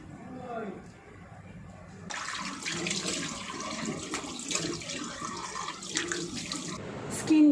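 Running tap water at a sink while yogurt facial mask is rinsed off the face, a steady close gush with splashes that begins after a couple of seconds and continues to the end.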